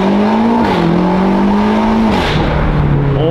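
A turbocharged car accelerates hard in sport mode, its engine note climbing through the gears with brief dips at the shifts and a loud, continuous roar, with no talking.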